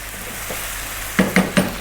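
Chicken stew with chopped garlic and black pepper sizzles in a pot, a steady frying hiss followed by three quick clinks of a spoon stirring against the pot near the end.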